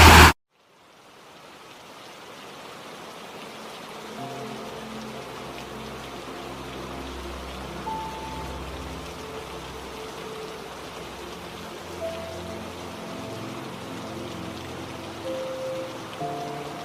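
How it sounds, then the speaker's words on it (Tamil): Steady rain pours down at a temple in Melmaruvathur, a continuous dense hiss of drops hitting surfaces that swells slightly and holds even throughout, with no voices over it. "மழையாச்சு"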